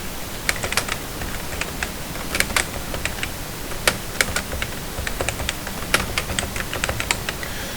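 Continuous typing on a computer keyboard, rapid irregular key clicks in short bursts, close up over a steady noisy background.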